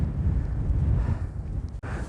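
Strong wind gusts across a coastal path on the Isle of Wight, buffeting the microphone with steady loud rumble and a brief dropout near the end.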